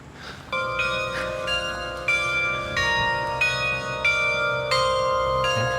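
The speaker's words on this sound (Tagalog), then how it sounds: "Ito ngayon tumutunog, yung mga bell." Church bells at the Marian Orchard pilgrimage site in Balete, Batangas, Philippines ring out in a steady sequence of loud, sustained strikes, each tone overlapping the ringing decay of the last.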